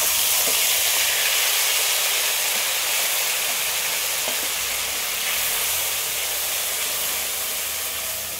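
Ground spice paste sizzles loudly in a hot pan, a dense, continuous frying hiss that holds steady throughout with no voices.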